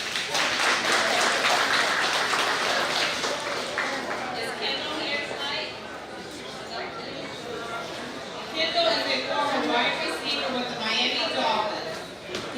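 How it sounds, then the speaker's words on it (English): Audience applause for an honoree at an NFL awards event, a sustained wash of clapping and cheering with crowd chatter, rising and swelling again in waves, fairly loud throughout. "So I'll give a round of applause to Solo."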